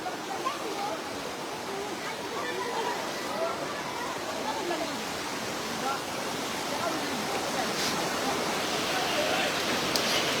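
Floodwater from Mizoram surges past a riverside ghat in a dense, continuous roar of rushing current, steady and loud throughout.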